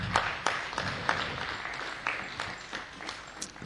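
Audience applause at a school prize-giving ceremony for naat, poetry and speech competitions, a thin, faint patter of claps with scattered sharper hand strikes, continuous and fairly distant.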